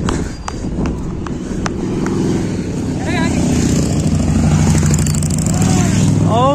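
A Kawasaki Z900 superbike roars past on the Mumbai–Goa highway, its engine growing louder as it closes in, while people talk nearby.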